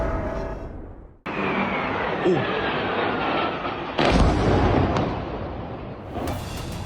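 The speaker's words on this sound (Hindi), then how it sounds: "ये अभी एक दूसरा ब्लास्ट भी हुआ है हमारी ये नूर खान एयरबेस पे" An attack on Pakistan's Nur Khan airbase produces a sudden loud blast, followed by a sustained heavy roar and rumble with a second surge of booming noise, faint voices beneath it.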